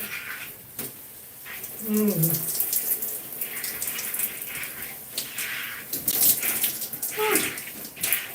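Water runs from a tap as shampoo is rinsed out of hair during a wash-day routine. The flow is steady and moderately loud, with someone talking intermittently and a dog whimpering briefly.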